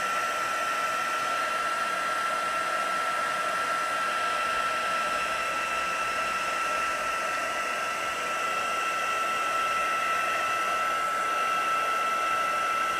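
A heat tool blows a steady, loud whirring roar as it warms the back of a paper flower for a silver sardine-effect card, running continuously with a constant pitch and no talk.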